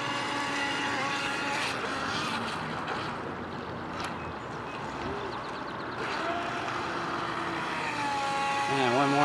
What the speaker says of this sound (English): Now I'll crank the throttle here to full tilt.